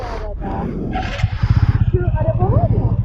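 A TVS RTR 200 motorcycle revs up at night, its engine pulsing faster and louder nearby, while voices talk over the opening moments.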